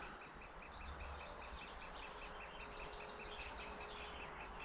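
A baby woodpecker hidden in a tree hole calls persistently for food, a rapid, even series of high, faint chirps repeating steadily over quiet outdoor background.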